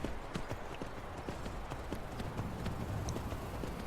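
Horse hooves clip-clop in Skyrim, the video game, a steady run of close, sharp knocks on hard ground continuing throughout with a low background rumble.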